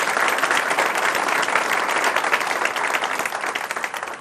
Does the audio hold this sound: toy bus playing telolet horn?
no